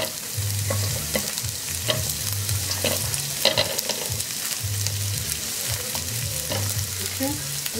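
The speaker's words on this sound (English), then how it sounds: "now I'm adding the onion and the garlic here" Onion and garlic fry in a pan with a loud, steady sizzle, joined by repeated stirring scrapes and light clatters throughout, close up and with no talking.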